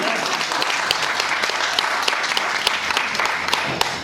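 An audience at a literary gathering celebrating a 97th birth anniversary applauds in thanks to the organizer, a continuous, fairly loud patter of many clapping hands with no speech.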